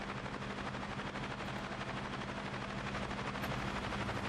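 An Osprey heavy airlift aircraft in the game Cepheus Protocol drones steadily, a dense, loud, unbroken rotor-and-engine roar filling the whole stretch.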